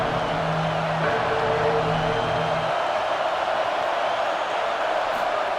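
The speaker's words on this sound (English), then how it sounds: "This crowd is making a big difference here so far." Steady roar of a large crowd at a college football game between Arizona State and UCF, a continuous dense wash of noise with a low drone under it.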